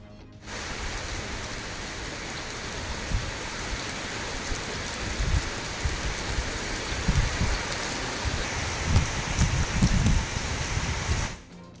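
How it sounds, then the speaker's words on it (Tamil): A sudden summer shower falls around Kodaikanal, Cumbum and Vadipatti in Tamil Nadu, a dense, steady hiss of rain pattering on surfaces with heavier splashes toward the end. It is close and continuous, with no talking. "கொடைக்கானல், கம்பம், வாடிப்பட்டி சுற்றுவட்டார பகுதிகளில் திடீரென பெய்த கோடை மழை."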